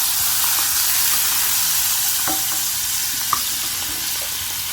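Two tablespoons of butter melt over low heat in a pan, giving a steady close hiss and sizzle with a few faint clicks and stirring touches, no voices.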